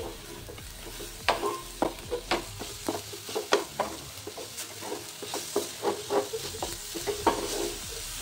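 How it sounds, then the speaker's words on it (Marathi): Grated coconut filling with jaggery for modak is stirred in a pan, a soft steady sizzle under repeated scraping strokes of the spatula, close and fairly quiet. "गूळ छान विरघळेपर्यंत आपल्याला हे परतवत राहायचं आहे।"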